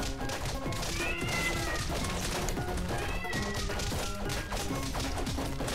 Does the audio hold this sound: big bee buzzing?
no